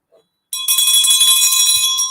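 A school bell rings out loud and continuous for about a second and a half after a short silence, a steady metallic tone with no voices over it.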